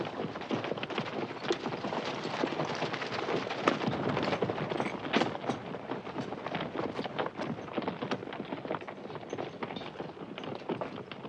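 Many hooves clopping in a steady, busy rhythm, like several horses moving together, with a constant rumble of wind-like noise throughout.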